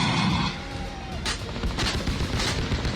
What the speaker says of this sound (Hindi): गोलियां बरस रही हैं